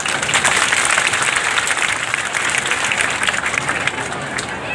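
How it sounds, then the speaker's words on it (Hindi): Crowd at an outdoor public dialogue event in a Haryana village clapping, a dense, steady wash of applause lasting the whole stretch with faint murmuring mixed in. "बजा दो ताली"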